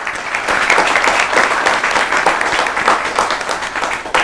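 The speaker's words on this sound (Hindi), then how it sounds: "तो एक बार जोरदार तालियां बजाइए आपके बीच में डॉक्टर ममता वासने के लिए" An audience at a Holi poetry gathering applauds poet Dr. Mamta Vasne with loud, dense, sustained clapping that continues evenly throughout.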